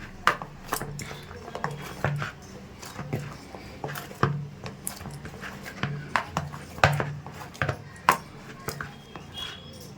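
Hot dough for a sweet rose-shaped pitha is kneaded by hand, producing a close, rhythmic series of soft thumps and squishy presses, repeating irregularly about twice a second with no voices.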